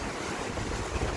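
Ocean surf at a Hawaiian beach, a steady broadband wash of breaking waves with wind buffeting the microphone, loud and continuous with no voices.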